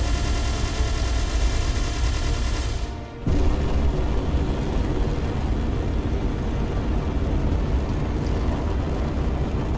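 Turrets in Space Engineers fire at a gremlin assault ship, a dense, continuous roar of gunfire and rumble that cuts out briefly, then resumes at full strength.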